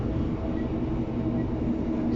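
Onboard an East Midlands Railway class 156 diesel train, unit 156411, running between Barnetby and Lincoln, with a steady loud engine drone and rumbling wheel noise filling the carriage throughout.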